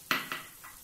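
Paneer tipped into a pan of softened, cooked-down tomato for paneer bhurji, with two quick utensil clatters against the pan followed by a faint scrape, short and close, no voices.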